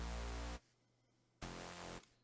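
Mid bass synth layer in a melodic dubstep drop, played dry without effects: two loud, buzzy sustained notes separated by a short gap, heard alone.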